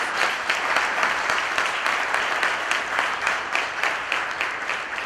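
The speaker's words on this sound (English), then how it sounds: "a round of applause for this phenomenal human being" An audience at a regional summit panel discussion in Vadodara claps steadily, a dense, even wash of applause from many hands that holds without fading, with no voices over it.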